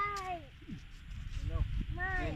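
Cat meowing outdoors in rural rice paddy fields after rain, with several drawn-out, rising-and-falling meows spread through the clip, mixed with people talking nearby.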